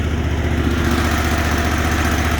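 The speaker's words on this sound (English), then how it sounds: "Idle it down again for you so you can hear it run real smooth." A 60-inch Exmark Lazer Z S-Series commercial zero-turn riding mower's engine idles smoothly and steadily, a close, continuous low throbbing hum with even rhythm and no other sounds.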